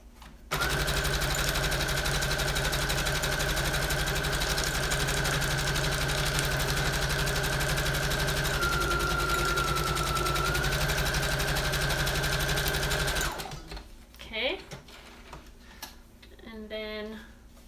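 A sewing machine stitching lace onto paper runs loud and steady for about thirteen seconds with a fast, even rattling hum, then stops, leaving quiet room sound with faint handling noises.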